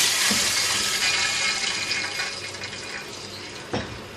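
Water streams and splashes steadily into a pan for chicken biryani, a broad hiss that slowly eases off, with a small clink near the end.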